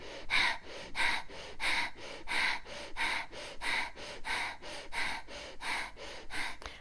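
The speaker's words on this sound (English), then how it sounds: "Breath of fire should be done with certain speed, not too fast and not too slow." Breath of fire yoga breathing: about a dozen sharp, forceful nasal exhalations at an even, moderate pace, each a short hissing puff, close to the listener with no speech.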